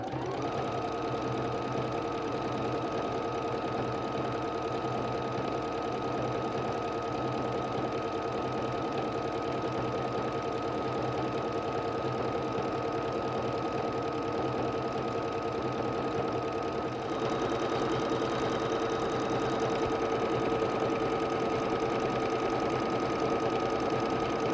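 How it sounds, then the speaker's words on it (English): An embroidery sewing machine runs a decorative stitch through a quilt sandwich, attaching the backing. Its steady motor whir and rapid needle rhythm continue loud and unbroken for about 25 seconds. "I'm going to use this decorative stitch to attach the backing to our front quilt sandwich."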